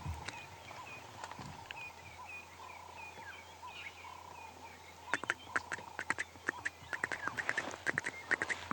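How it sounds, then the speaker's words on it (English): A Stierling's wren-warbler calls in the distance during a morning safari at Ngala Private Game Reserve, giving faint, repeated short whistled notes over quiet bush ambience, later joined by a run of sharp clicks. "And then in the distance there's a nice rarish bird called the Steerling's wren warbler that's calling."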